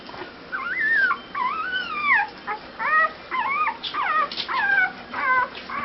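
A dog whines and whimpers in a run of high, wavering cries, close and fairly loud, in bursts with short pauses between them.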